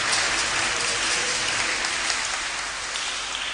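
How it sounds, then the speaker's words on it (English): A congregation at a Catholic Mass in Lagos applauds steadily, a dense, even wash of hand claps that holds at close range for the whole stretch with no talk over it. "Can we give her a round of applause?"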